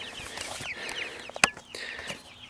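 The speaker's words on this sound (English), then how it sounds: "So here are my chickens." Backyard chickens beside a newly finished coop with a chicken-wire fence cluck and chirp almost continuously at close range, with a sharper squawk standing out near the middle and no talking.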